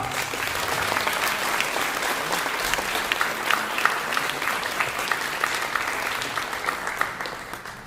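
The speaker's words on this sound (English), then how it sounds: "So let's give them all a big round of applause." Audience applause at a high school spring concert fills the room, a thick, sustained burst of many hands clapping at an even level before tapering slightly at the end.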